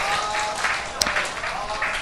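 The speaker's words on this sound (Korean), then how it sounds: "우리 박수 쳐주시겠습니다" Church gathering audience applauding briefly for a prize winner, a short wash of clapping under a speaking voice with one sharp clap standing out.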